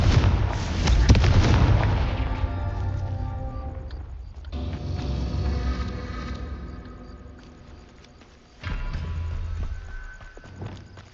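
Confringo blasting curse in Hogwarts Legacy, a loud booming explosion at the start that rolls into a long rumbling decay, followed by a second heavy burst near the end, no talking.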